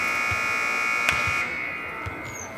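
A shot clock buzzer sounds at a basketball three-point competition, a loud sustained electronic tone that holds steadily for about a second and a half and then cuts off under arena noise.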